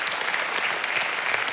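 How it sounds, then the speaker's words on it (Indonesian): Studio audience applause at a live televised grilling competition show, a steady, dense wash of clapping that fills the whole stretch without pause. "Tepukan untuk YB sekalian."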